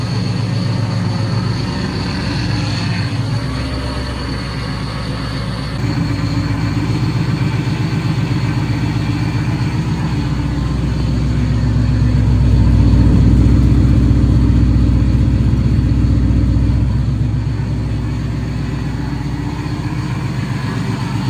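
A Coyote V8 swapped into an SN95 Mustang runs at a steady, loud idle, its low rumble swelling slightly midway. A faint whine comes from a power steering pump with air in it, and fresh headers are burning off residue.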